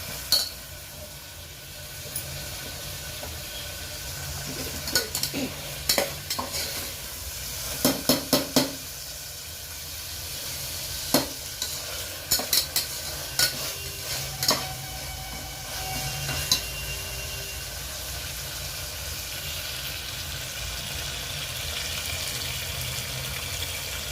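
Carrots and beans stir-fried in a pan, a steady hiss of sizzling oil punctuated by irregular clusters of sharp spatula scrapes and taps against the metal, close and continuous.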